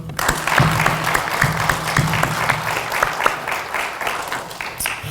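An indoor crowd applauds healthcare technology teachers at a high school pinning ceremony, a dense, steady wash of many hands clapping close by for about five seconds without pause.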